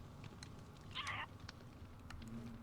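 A person meows to imitate Minecraft's happy ghast: a single short, mid-pitched meow-like call over a steady low background hum.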